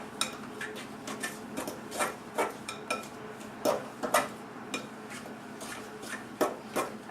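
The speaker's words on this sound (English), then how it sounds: "take the fork and kind of press it against the side of the bowl" A fork presses and mixes brown sugar against the side of a bowl for cookie dough, giving soft, repeated scraping and rubbing strokes in an uneven rhythm, close and fairly quiet, with no talking.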